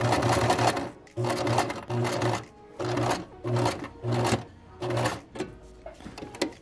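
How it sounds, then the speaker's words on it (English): A sewing machine stitches a woven label onto a T-shirt in short, even bursts of fast mechanical whirring, broken by brief pauses. The sound is close and moderately loud. "Then you just twist the shirt around, sew along all the edges."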